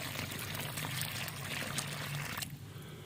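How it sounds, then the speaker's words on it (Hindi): Water is poured by hand onto radish plants buried in a soil pit, a steady splashing pour with faint background noise that stops abruptly near the end. "इसको आप पानी दे दें,"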